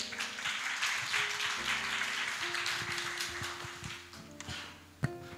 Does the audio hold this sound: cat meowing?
no